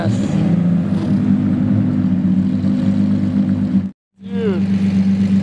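A straight-piped Audi R8 making 1,000 horsepower holds a loud, steady engine roar. The sound cuts out abruptly for a moment, then the engine comes back and revs up again.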